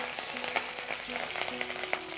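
Curry leaves and green chilli pieces fry in hot oil, a soft, quiet sizzle with scattered small pops and crackles spread across the short stretch.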